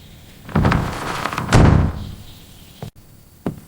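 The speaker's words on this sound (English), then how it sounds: "They close the door." A door is pushed shut in a home after a break-in: two heavy, muffled thumps with some rustling, then a couple of short, sharp clicks as it settles. The sound is close and nobody speaks.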